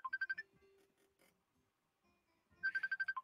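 An incoming call rings on a phone in two bursts of rapid electronic warbling tones separated by a quiet gap, fairly faint and without any talk.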